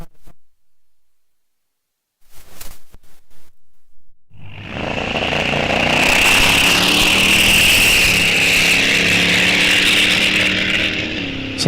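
A drag racing car engine at a raceway roars loud and raspy up close, holding steady for several seconds after a few brief clicks and knocks, running uneven and rough.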